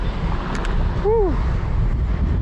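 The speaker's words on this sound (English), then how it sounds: "Oh, I'm loving that wind. Nice and cool." Wind rushes past a cyclist riding through city streets, a steady broad roar close to the microphone, with a brief whistle-like voice sound cutting through midway.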